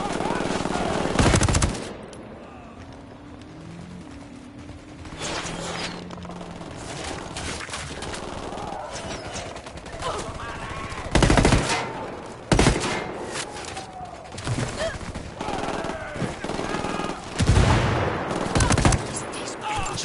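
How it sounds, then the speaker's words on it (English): Bursts of machine gun fire in the Ghost Recon video game, repeated loud rattling volleys spread across the scene with gaps between them, mixed with game ambience and occasional voices. "Opening fire on these fuckers."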